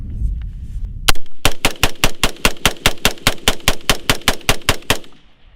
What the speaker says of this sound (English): So this gun is semi-automatic, so every time I pull the trigger, there's gonna be a bullet leaving out the end of the chamber.